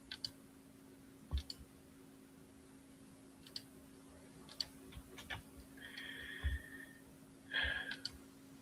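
Computer mouse clicks during an online database search, sharp isolated ticks scattered across a quiet background with a steady electrical hum, plus a couple of brief tonal chimes near the end.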